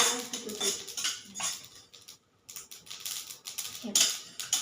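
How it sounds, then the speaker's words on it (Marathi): Spices sputtering and crackling in hot oil while bhakarwadi filling is cooked, a busy run of sharp ticks and pops in bursts that briefly drops out midway, then resumes; someone talks over it. "तर बघा मसाले वाजत आहेत आपले."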